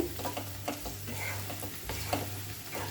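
Spatula stirring amchur powder through beans and potatoes frying in a pan, with repeated scraping strokes over a steady low sizzle and hum, close and moderately loud, with no voices.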